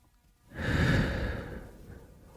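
A single long, deep exhale of a cleansing breath, a soft airy rush that swells quickly and then slowly fades, close to the listener with no talk.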